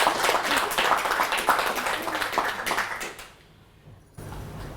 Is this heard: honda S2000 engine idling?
no